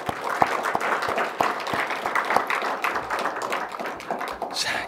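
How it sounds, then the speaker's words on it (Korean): A church congregation at a retreat service gives applause of praise, many hands clapping together in a busy, fairly loud patter with a few sharper individual claps standing out near the front. "우리 하나님께 영광의 박수를 한번 돌립시다."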